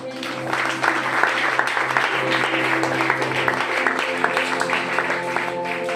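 A church congregation claps together in steady, sustained applause for several seconds, dense and lively, with faint voices mixed in beneath the clapping.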